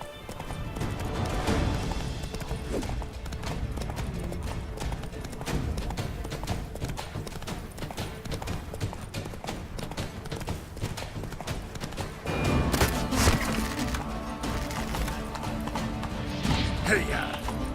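The horse Roach galloping in the video game The Witcher 3, rapid steady hoofbeats throughout with rumbling movement and occasional heavier thuds, with talk mixed in.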